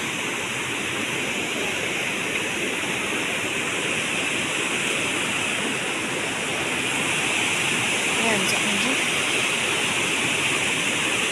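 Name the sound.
water rushing down from above near a bridge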